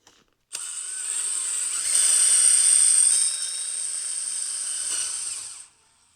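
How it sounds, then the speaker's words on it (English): A power drill bores a 5/16-inch hole through a metal motorcycle bracket lubricated with light oil, a steady high-pitched whine lasting about five seconds, swelling louder midway and then stopping abruptly, with no talking. "you want to just put some type of light oil on there when you're drilling"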